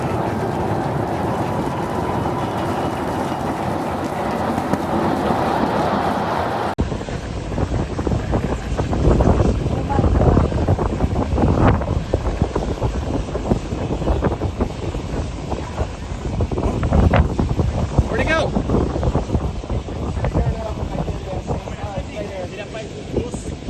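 A SpaceX rocket lifts off in the distance, its low broadband rumble and crackle rolling under heavy wind buffeting on the microphone, swelling and fading over about twenty seconds in open outdoor air.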